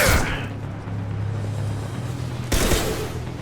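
Gunfire crackles in Mass Effect 2 combat as a loud burst opens, then a continuous rattling fusillade runs underneath, with a second sharp burst breaking out later.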